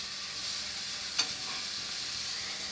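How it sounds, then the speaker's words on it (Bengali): Noodles and sauce stirred in a hot pan give a steady, even sizzling hiss throughout, with one sharp utensil click near the middle. "ভালো মতো নেড়ে নিচ্ছি"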